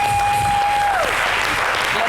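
Audience applause rising in honor of the Baoulé people at a lively studio show, a steady wash of clapping with a brief tonal sweep over it.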